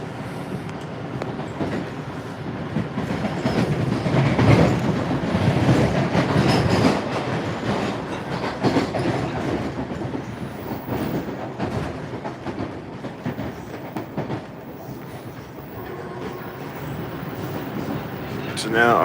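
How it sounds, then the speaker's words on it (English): MBTA Red Line subway train running at speed, about 40 mph, between Quincy Adams and Broadway: a steady, loud rumble of wheels and car body with rhythmic clatter and brief squeals, a voice talking over it. "So now our train is running at 40 miles per hour."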